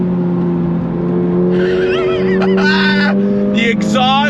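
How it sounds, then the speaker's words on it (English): Toyota GR86 sports car exhaust droning steadily through a cornering run, a sustained engine note rising slightly near the end, with someone talking over it throughout. "The exhaust sounds phenomenal"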